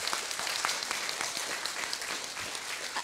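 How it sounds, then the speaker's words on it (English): An audience at a young people's book prize ceremony gives a round of applause, a fairly quiet, even wash of many hands clapping continuously, with no voices standing out. "Big round of applause."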